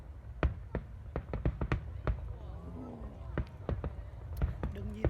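Fireworks launched from barges at a summer display in Korea go off as a series of sharp distant pops and bangs in irregular bursts, with people talking quietly nearby.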